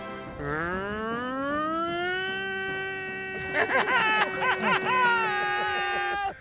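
A man on a podcast imitates a tornado siren with his voice, a rising wail that holds a long steady tone, then breaks into warbling pulses and drops off at the end, with brief laughter and chatter mixed in.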